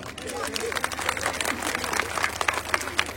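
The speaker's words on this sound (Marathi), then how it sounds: "वाजवा टाळ्या" An audience claps at a village Home Minister Paithani game event in Avhalwadi. Dense, continuous applause with many overlapping hand claps runs throughout, with crowd voices mixed in.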